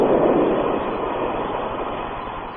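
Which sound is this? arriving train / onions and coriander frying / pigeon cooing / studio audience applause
arriving train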